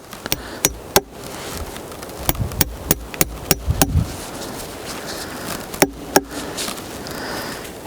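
A hammer straightens a bent nail during a woodworking job, giving sharp, close knocks in irregular bursts of two to four blows with short pauses between them. No one talks.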